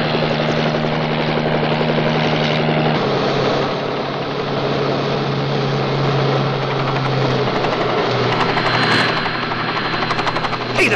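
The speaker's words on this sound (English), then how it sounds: "That chopper's the police." A police helicopter passes close overhead, its loud, steady rotor thrum and turbine whine filling the whole stretch with no talk, the pitch shifting slightly as it moves.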